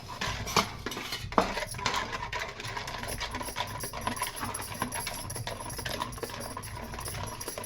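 Jowar (sorghum) flour is stirred into a batter in a pot, with a spoon clinking and scraping against the metal in irregular, fairly quiet strokes.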